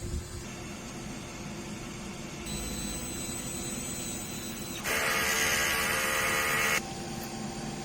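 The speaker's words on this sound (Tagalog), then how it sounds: "Tamang pag-head clean, pindutin na natin yung clean, normal" A DTF printer whirs and hums through a print head cleaning cycle, shifting between motor tones, with a louder hissing, pumping stretch near the end.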